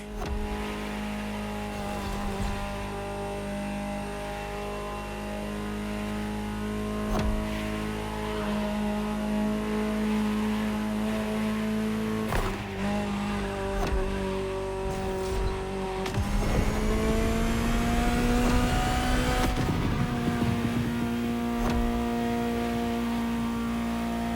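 A Ferrari supercar drives in the racing game The Crew Motorfest, its engine droning and rising through sustained revs with shifts and occasional tire squeal, loud and continuous with no voices.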